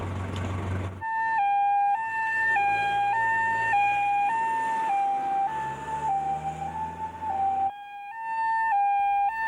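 An ambulance siren wails loudly and close by, its two-tone pitch alternating steadily after a brief rumble at the start.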